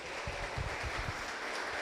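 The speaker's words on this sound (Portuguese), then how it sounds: "Então celebre ao Senhor com palmas nessa noite." A church congregation claps together in praise during an evening service, a brief, dense patter of many hands at an even level.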